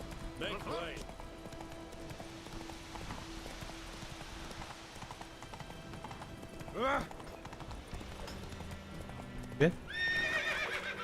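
A horse gallops and neighs in the video game The Witcher 3, hooves pounding under a sharp whinny near the start and another loud neigh near the end, with people talking over the game sounds.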